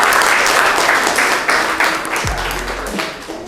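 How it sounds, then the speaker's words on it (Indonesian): Students in a classroom lesson give their classmates a round of applause: loud, dense clapping that runs throughout, tapering slightly toward the end, with a low thump partway through. "Beri tepuk tangan untuk teman-teman."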